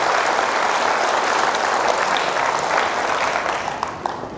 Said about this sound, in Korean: 또 시청에 있는 사람 박수 한번 쳐주세요.